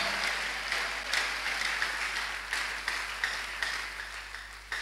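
A church congregation applauding God during a Sunday service, with steady rhythmic clapping from a crowd that keeps a regular beat throughout, loud and filling the room.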